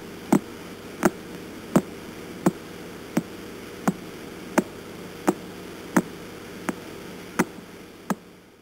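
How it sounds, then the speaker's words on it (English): Recorded radio signal of a pulsar star, heard as sharp, evenly spaced clicks about every 0.7 seconds over a steady static hiss, alone with no other sound. "That's the sound of what they call a pulsar"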